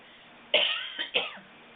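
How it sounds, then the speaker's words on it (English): Two harsh coughs close to the microphone, the second following quickly after the first, with no talking. "I'm going to cough."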